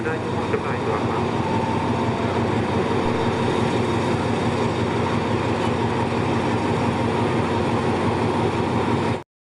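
A train at Bang Sue station in Bangkok on a busy holiday, giving a loud, continuous close rumble of rolling stock that holds steady throughout before cutting off abruptly at the end.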